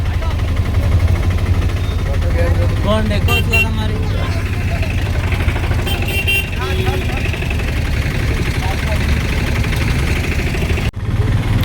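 A crowded auto rickshaw's engine runs steadily with a loud low drone on a road trip to the Saleshwaram fair in Telangana, while people talk over it and a brief thump comes near the end.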